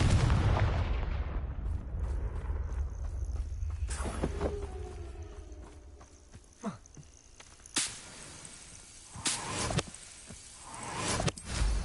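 Blasting spell bursts in the Hogwarts Legacy game, a heavy boom at the start decaying into rumble, followed by several sharper cracks and impacts scattered through the rest, no talk.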